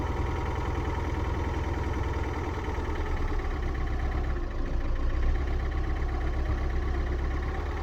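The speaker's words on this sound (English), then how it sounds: "Here the car's struggling a little bit, keep trying to hold the RPM because of the airflow through the system." A car engine idles steadily during a Revive Auto Spray treatment, struggling to hold its RPM, giving a continuous droning hum with no talk over it.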